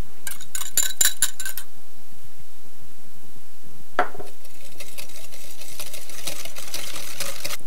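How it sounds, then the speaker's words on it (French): Egg yolks and sugar whisked in a bowl for a rolled chocolate Yule log, with a fast, steady rattle of the whisk against the bowl, loud and close, interrupted by brief pauses and clinks. "on va fouetter deux jaunes d'œufs avec du sucre jusqu'à blanchir les œufs"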